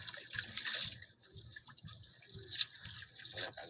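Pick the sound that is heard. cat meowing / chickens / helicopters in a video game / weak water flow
weak water flow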